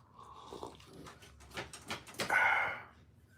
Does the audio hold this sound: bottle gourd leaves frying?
no